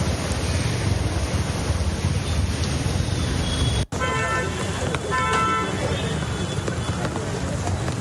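A waterlogged road in Navi Mumbai during heavy rain, with slow traffic hissing and splashing through water in a constant wash of noise and a couple of short car horn toots partway through.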